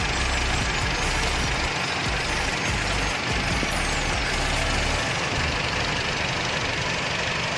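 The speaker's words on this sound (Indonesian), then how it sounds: "Suara mesinnya" A Toyota Kijang car engine idles steadily at close range with the hood open, a continuous rough mechanical rumble with a faint knocking texture and no talk over it.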